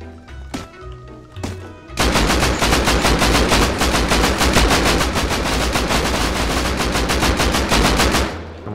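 Sustained automatic gunfire from the survival game Rust, a couple of isolated shots followed by roughly six and a half seconds of loud, continuous rapid-fire bursts that stop abruptly.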